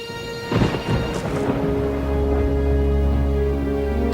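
Steady heavy rain with a deep rolling rumble of thunder building underneath, loud and continuous throughout.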